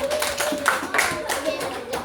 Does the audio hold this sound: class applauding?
yes